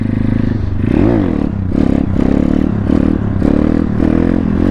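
A pit bike converted for stunts revs hard while the rider holds a wheelie. The close, buzzy engine note rises and falls in quick repeated pulses, loud and alone with no talking.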